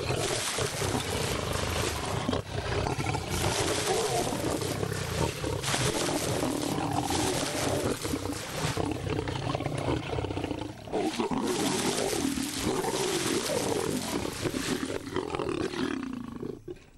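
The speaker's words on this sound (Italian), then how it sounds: "i leoni si stanno contendendo le spoglie di un bufalo" Lions roar and snarl loudly and continuously while fighting over a buffalo carcass in the wild, the deep growls dense and close, with no talk.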